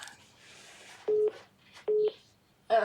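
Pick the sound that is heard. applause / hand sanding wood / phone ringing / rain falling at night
phone ringing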